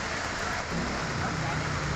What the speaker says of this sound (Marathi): आणि तसाच पाऊस जो आहे तो पुन्हा एकदा पुण्यात होताना दिसतोय